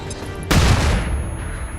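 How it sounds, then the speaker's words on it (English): Flashbang grenade detonating in XCOM 2, a single loud sharp blast with a bright crackling burst that rings out and decays over about a second. "Let's flashbang it."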